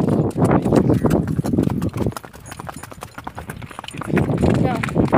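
A ridden horse clip-clops steadily while crossing a creek, its hooves close and loud, with people talking excitedly over the hoofbeats throughout.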